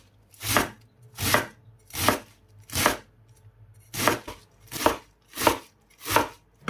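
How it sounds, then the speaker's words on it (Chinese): A knife chopping napa cabbage into small dice for pork and cabbage dumpling filling, eight crisp, evenly spaced loud chops on a board with short gaps, close and alone. "最后再改刀切成小丁。"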